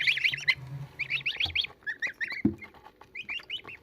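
Day-old goslings of a giant goose breed peep in rapid high trills, several close birds chirping in quick overlapping bursts with brief pauses between.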